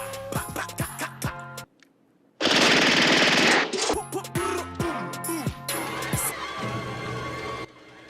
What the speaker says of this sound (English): Blade's gun is a Mac 11